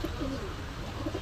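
A Lahori pigeon, a big-sized blue-bar bird, coos close by in a short burst of low throaty warbling against steady background noise.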